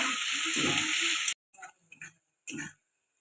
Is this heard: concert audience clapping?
no